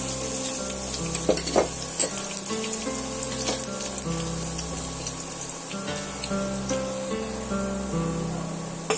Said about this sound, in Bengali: পেঁয়াজটা আমি এখানে ভেজে নিয়েছি